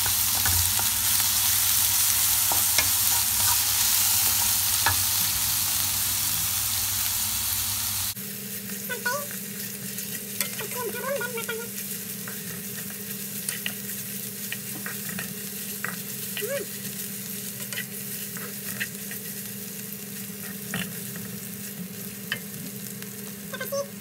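Ground spice paste sautéing in hot oil, a dense steady sizzle that drops slightly in loudness partway through, with scattered stirring clicks across the whole stretch.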